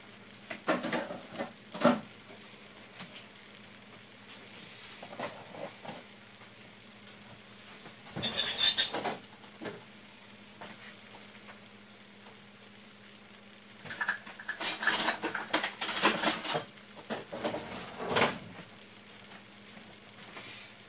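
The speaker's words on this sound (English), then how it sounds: "stir this all up" Yakisoba noodles stirred with a spoon in a hot pan, giving intermittent scraping and sizzling bursts over a steady low frying hiss, with several louder stirring passes spread across the stretch.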